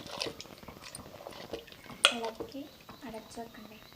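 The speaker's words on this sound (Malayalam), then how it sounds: "ഇനി ഇതൊന്ന് ഇളക്കി നമുക്കൊന്ന് വേവിച്ചെടുക്കാം" A spoon stirs and scrapes a pot of Kerala-style pindi chembu pulisheri in short, uneven strokes with one sharp metallic clink. A voice talks softly over the stirring.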